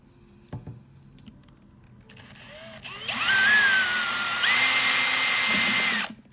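A power drill whirs up after a few quiet knocks, running loud and steady in two bursts with a brief pitch change, then stops abruptly.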